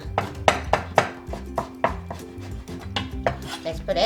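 A knife cuts carrots into thin julienne strips on a board in quick, regular chops, about a dozen close sharp knocks with a light rhythm and no talking.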